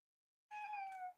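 A house cat gives one drawn-out meow that falls slightly in pitch and is clear and close, heard alone after silence.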